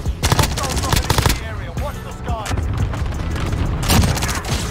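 Loud, rapid gunfire bursts come close together in Call of Duty: Warzone, with repeated automatic strings and a few heavier booms that keep the clip busy.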